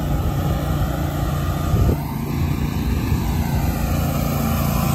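A boosted lawnmower engine roars loud and close in a continuous droning rev during a wheelie, with a brief dip and surge in the middle.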